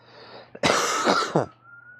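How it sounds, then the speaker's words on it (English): A single throat clearing, loud and close: a rough, rasping burst that comes in two harsh pushes, with quiet room noise before and after. "Let me clear my throat."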